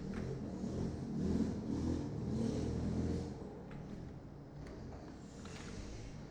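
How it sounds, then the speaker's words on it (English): Motorcycles revving nearby, a dense, steady engine rumble that swells loudest for the first three seconds, then settles into a lower, continuous drone, with no talking over it. "Hear the motorcycles."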